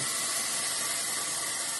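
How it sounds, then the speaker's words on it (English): Heat protectant hair spray for afro hair, released from an aerosol can in one continuous close hiss lasting almost two seconds before tapering off, with no voices. "So you have to spray a lot, and it does come out like a deodorant"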